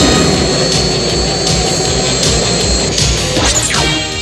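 A seaplane engine roars loud and steady in an animated series, a dense droning whine with rhythmic pulsing and a few sharp whooshing hits near the end.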